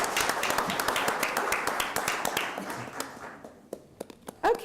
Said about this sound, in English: I'd like to just thank them with some applause